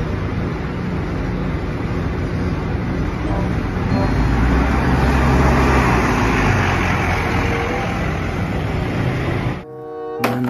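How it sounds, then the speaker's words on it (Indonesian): Steady, loud roadside traffic rumble as a double-decker bus passes close by on the road, a continuous engine drone that cuts off abruptly near the end. "Ada mobil bus double decker teman-teman."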